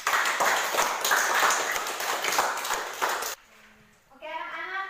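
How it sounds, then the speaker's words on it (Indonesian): A classroom of students applauds together in a dense burst of clapping lasting over three seconds, close and lively, then stops abruptly, followed by a brief pause and a voice speaking. "Tepuk tangan untuk kita semua."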